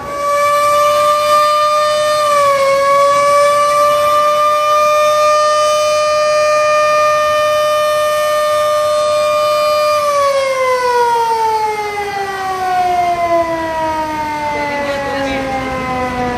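A crowded passenger launch on the Dhaka to Barishal route sounds its horn on departing, a loud, sustained harmonic blare that holds steady for about ten seconds, then slides down in pitch as it fades slightly, with crowd and engine noise beneath.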